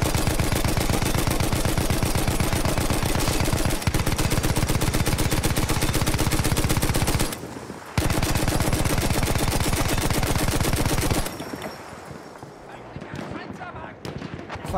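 Machine gun fire in a video game, a loud rapid stream of evenly spaced shots running nearly continuously, cut by a short gap and a single burst, then dropping away to quieter battlefield noise at the end.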